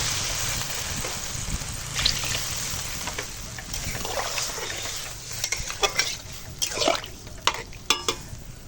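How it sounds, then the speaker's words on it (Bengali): Water pours into a hot pan of sautéed fish curry base, a steady sizzling hiss broken by bursts of clattering and stirring, close and fairly loud. "কষানো হয়ে গেছে এখন দিয়ে দেবো জল"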